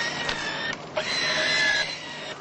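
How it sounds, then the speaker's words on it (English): A soft, whirring mechanical hum from a ReWalk electronic exoskeleton, with brief motorized buzzes and tonal whines, fairly quiet and steady for a couple of seconds. "This is the sound of an electronic exoskeleton developed by a small Israeli high-tech company"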